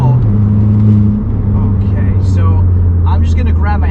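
A tuned VW MK7 GTI, heard from inside the cabin, pulls hard at full throttle in third gear with a loud, steady engine drone, while someone talks over it toward the end.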